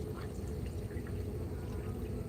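Water pours steadily into a cup at close range, a soft continuous trickle over a low background hum.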